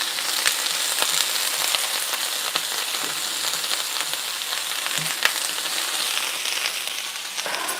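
Cabbage and onion sizzle steadily in a hot pan as they are stirred for colcannon, a loud continuous frying hiss with occasional clicks of the utensil, no talking.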